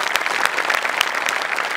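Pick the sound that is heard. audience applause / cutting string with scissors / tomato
audience applause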